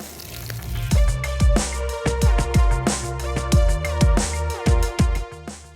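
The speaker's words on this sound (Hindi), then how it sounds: "मैं इसको फ्राई करती हूँ।" Sizzling oil with repeated sharp bursts of crackle as tikkis fry in a pan, fairly close and steady, with occasional louder spits.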